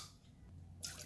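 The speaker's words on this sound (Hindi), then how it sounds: "इसमें मैं ऐड करूँगी 4 टेबलस्पून वाटर" Tablespoons of boiled water splash into a cold coffee mix, a soft, faint trickle at close range that grows a little brighter near the end.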